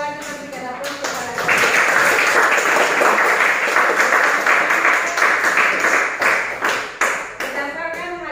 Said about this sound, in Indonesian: terima kasih kelompok 2 juga berikan aplaus kepada